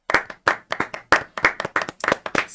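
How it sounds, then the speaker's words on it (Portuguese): Audience clapping for a guest at a business talk in Aracaju, heard as close, sharp claps in uneven bursts with brief gaps, sounding like a small group rather than a large crowd. "Uma salva de palmas para o meu amigo Ricardo Souza."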